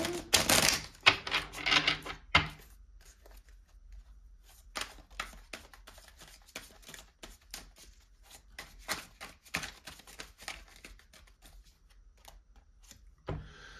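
Divine Love Oracle cards being shuffled by hand, a dense burst of riffling clicks at the start followed by scattered, quieter card taps and snaps, close up with no talking.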